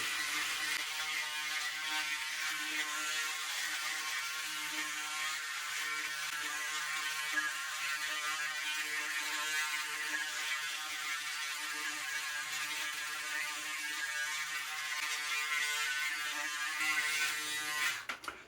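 Braun Series 7 7127cs electric shaver running in turbo mode across a face, a close continuous buzzing hum with a shifting gritty texture as it cuts stubble, stopping abruptly at the end.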